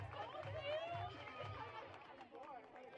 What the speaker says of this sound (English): Some energy starting to be injected into the home crowd